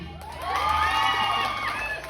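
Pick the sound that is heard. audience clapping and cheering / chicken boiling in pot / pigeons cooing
audience clapping and cheering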